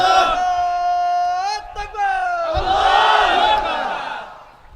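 A large crowd at an outdoor religious gathering roars a unified chant in answer to a call, loud and sustained, following a single leading voice.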